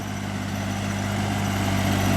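A farm tractor's engine chugs steadily at close range while tilling a flooded rice paddy, a low continuous rumble with no talk.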